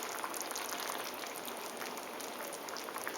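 Tuna steak with garlic and tomatoes cooking in a pan over high heat, giving a steady close-up sizzle and bubbling hiss that runs without a break, with no talking.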